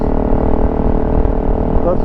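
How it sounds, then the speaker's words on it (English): A Honda CRF300L Rally motorcycle with a modified exhaust runs with a steady, loud engine rumble heard close up, while a rider talks over it. "now it sounds like a real motorcycle. You can definitely hear it, but it's not obnoxiously loud like my 450L was."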